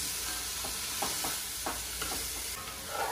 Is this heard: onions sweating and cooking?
yes